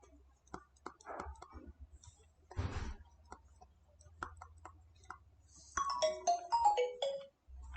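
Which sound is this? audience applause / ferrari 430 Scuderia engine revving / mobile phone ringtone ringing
mobile phone ringtone ringing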